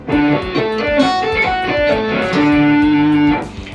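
A clean electric guitar plays a fast sweep-picked arpeggio run, ending on a sustained ringing note, close and moderately loud.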